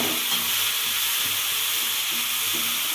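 Washed amaranth greens hit a hot pan with ginger and oil, giving a steady, loud sizzle and frying hiss that runs unbroken throughout, with faint stirring scrapes underneath and no voices.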